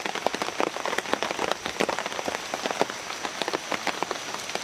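Light rain falling on a surface outdoors at night, a dense patter of close individual drops with a steady soft hiss underneath, no talking.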